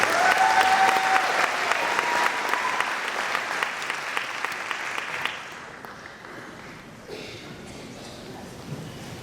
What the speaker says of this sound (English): Another round of applause for the construction equipment program.